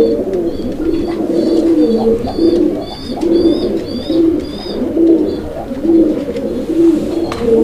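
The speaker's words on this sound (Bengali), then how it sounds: "কবুতরের ডাক দেখছেন, একদম ভরপুর ডাকের একটা পেয়ার।" A pair of fancy pigeons in full breeding mood coo steadily at a Bangladeshi pigeon farm, the low rolling calls repeating in a regular rhythm, close and loud, with faint chirps from other birds above them and no talk.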